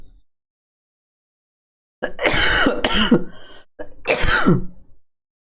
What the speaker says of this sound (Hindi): खांसी मेरे को इतना परेशान कर रहा है